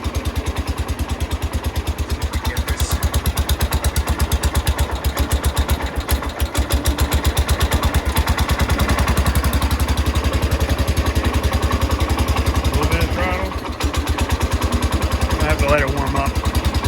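A Cub Cadet tractor engine runs steadily at idle up close, with a loud, rhythmic mid-pitched putter throughout and someone talking over it.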